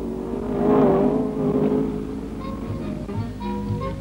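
A 1963 Saab race car finishes a circuit race as the flag falls, its engine droning steadily at mid distance with a swell of revs before easing into a sustained hum.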